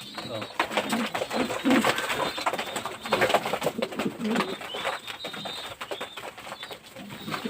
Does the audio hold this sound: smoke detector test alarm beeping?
no